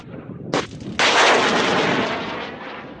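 Loud gunfire from a military exercise: a sharp report followed by a heavier blast a half-second later, its roar lingering and slowly fading.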